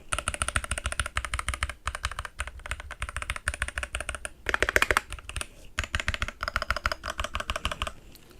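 Rapid typing on a Keychron V4 mechanical keyboard, with dense, steady clacking keystrokes close up and only short pauses between flurries.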